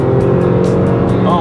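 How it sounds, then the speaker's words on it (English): A 2010 Infiniti G37x Coupe with a 330-horsepower engine and all-wheel drive hums steadily while driving, a loud sustained engine note with faint tire noise and no speech over it. "Oh my god, I love the sound of that engine note."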